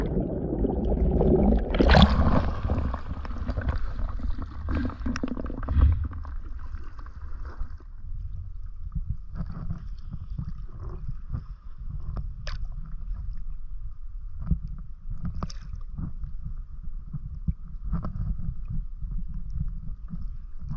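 Kayak paddling on open water near Lisiansky Inlet, with a loud splashy stroke early on, then quieter repeated paddle dips and water gurgles against a low wind rumble.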